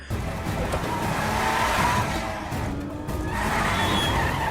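Film car chase with a courier van fleeing, engine roar and tyre noise continuing steadily and fairly loud throughout, with a brief screech-like tone midway.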